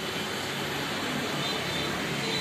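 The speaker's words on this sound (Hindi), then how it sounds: "अभी हवा भर रहे हैं भाई" Air is pumped into a Suzuki tubeless tyre during a puncture check, a constant even hiss at low level with no breaks.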